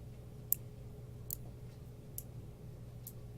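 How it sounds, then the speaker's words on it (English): A Rockwood brass door holder clicks into its locking positions: four short, sharp metallic clicks spaced about a second apart, alone over a low steady hum. "it has positive locking in all three positions. And you can hear that clicking,"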